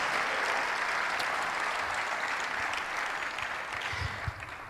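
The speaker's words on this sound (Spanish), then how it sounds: "dele un fuerte aplauso al Rey de Reyes y Señor de" A large crowd at a church conference applauding steadily and loudly, sustained clapping that holds for several seconds and thins slightly toward the end.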